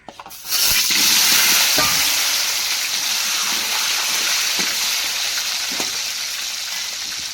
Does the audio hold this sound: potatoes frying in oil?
yes